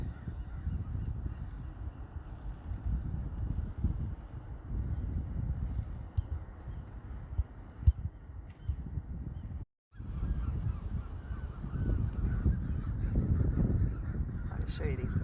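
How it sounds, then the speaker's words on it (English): Geese honk repeatedly as they fly overhead outdoors on a cool afternoon, calls scattered over a low rumbling background with a brief dropout midway. "I'll show you these birds flying."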